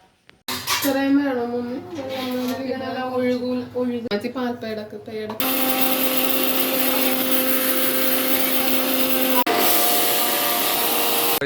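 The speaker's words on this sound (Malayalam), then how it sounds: "വീട്ടിൽ മിക്സി അടിച്ചുകൊണ്ടിരിക്കുന്ന, അപ്പുറത്തെ വീട്ടിൽ മിക്സി അടിച്ചുകൊണ്ടിരിക്കുന്നു" A mixer grinder whirs in a neighbouring home kitchen during Onam sadhya preparations. Someone talks over a quieter background at first, then the loud, steady motor whine runs unbroken to the end.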